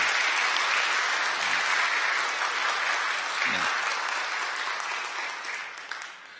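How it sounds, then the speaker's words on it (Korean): A church congregation at a Sunday service gives sustained applause welcoming new members, dense and even clapping filling the room that tapers off toward the end. "여러분들 인사드릴 때 뜨거운 환영의 박수 부탁드리겠습니다"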